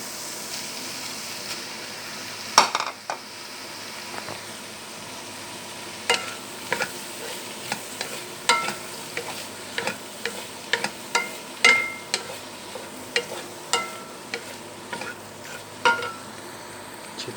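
Macaroni is stirred with fried vegetables in a pan: a continuous low sizzle under repeated sharp scrapes and taps of a spoon against the pan, coming in an uneven rhythm.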